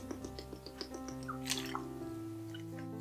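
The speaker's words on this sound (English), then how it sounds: "I have a quick break, fill up my water bottle" A water bottle is refilled at a faint, steady level, with soft dripping and trickling against a low background hum and a few scattered clinks.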